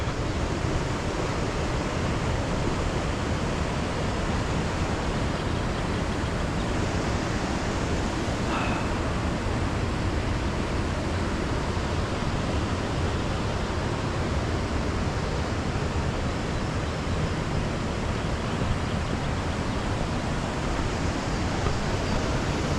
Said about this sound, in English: I would like to come here and see low force waterfall, because there's so many of them coming down